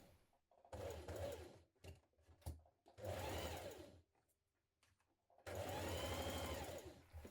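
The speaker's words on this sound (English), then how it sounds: "We're going to baste across the top to keep it in position." A sewing machine running basting stitches across the top of a pleat on a blouse, heard in three close bursts of motor whir and needle clatter separated by short pauses.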